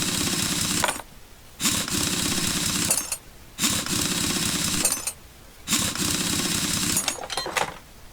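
Rapid mechanical impact-wrench bursts loosen car wheel lug nuts in Car Mechanic Simulator, four loud rattling runs of roughly a second or more each, separated by short quiet gaps, with no voices.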